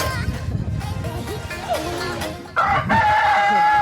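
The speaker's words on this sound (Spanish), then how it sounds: "Ahí suena el gallo." A rooster crows loudly nearby over a busy background of clucking fowl, with a voice murmuring faintly underneath.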